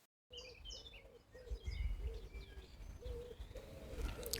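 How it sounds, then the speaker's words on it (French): Birds start singing at dawn around 5:20 on a hot summer morning, with a dove's repeated soft coos set against scattered chirps and tweets from other birds, faint and distant, with no one talking. "Il est à 5h20, les oiseaux commencent à chanter."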